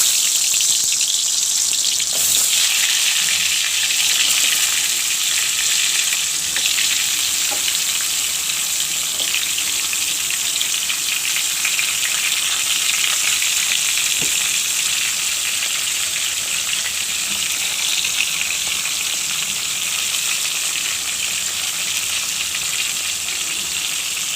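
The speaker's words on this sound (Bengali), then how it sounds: "তেল গরম হয়ে গেছে আমি পটল দিয়ে দেবো" Pointed gourd (potol) frying in hot oil, a steady, loud broadband sizzle that holds for the whole stretch with small crackles and stirring bumps, no voices over it.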